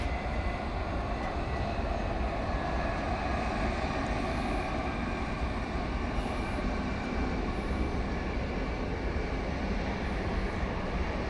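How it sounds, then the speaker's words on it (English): A British Airways Airbus A350-1000 takes off at DFW Airport, a steady, broad jet-engine roar heard from a distance that holds constant throughout without any voices. "we will turn our attention to the British Airways A350 1000, about to take off from the east side of"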